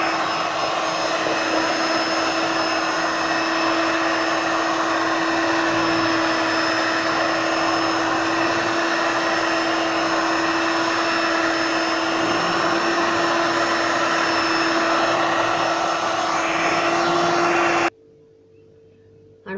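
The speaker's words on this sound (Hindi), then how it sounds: "अञा मां हिनखे थोरो हलाईंदमि मशीन के, त जीअं मक्खन जेको आहे उहो सॼो मथां गॾु थी वञे" An electric machine churns cream into homemade desi butter, giving a loud, steady motor whine with a constant hum that runs unbroken for about eighteen seconds before cutting off abruptly.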